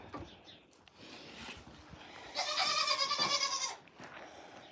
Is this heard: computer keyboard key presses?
no